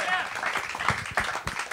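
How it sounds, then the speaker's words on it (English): A live comedy podcast audience applauds, a steady wash of clapping heard under a voice that talks over it throughout. "Give yourselves another round of applause."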